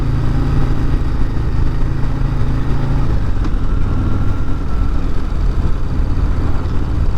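A 2026 Harley-Davidson Breakout motorcycle engine runs steadily and loudly up close, a deep throbbing idle that shifts slightly in tone partway through with a faint rise in revs.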